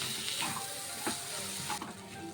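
Vegetables sizzling steadily in a hot pan, with a few soft scrapes and knocks from a spatula stirring in amchur powder and chopped coriander.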